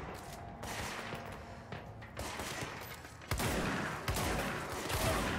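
Gunfire from the video game Control, several sharp shots in separate bursts over a steady, noisy background, each louder than the last, with no talking.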